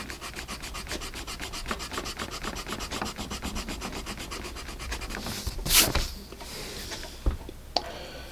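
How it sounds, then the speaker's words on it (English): A Paper Mate Sharp Writer mechanical pencil eraser rubs back and forth over graphite on paper in quick, rhythmic strokes, close and soft, ending with a brush-off and a couple of small taps. "Now let's try the new eraser on the new graphite."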